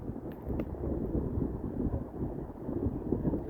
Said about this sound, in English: It's quite windy, actually.